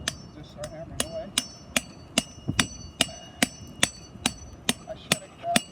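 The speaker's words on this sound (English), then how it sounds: "I'll start here, and I'll just start hammering away." A Stake Boss Tarp Fang stake is hammered into hard dirt with about a dozen sharp, evenly spaced metal strikes, each ringing briefly, close and loud, with faint background noise between blows.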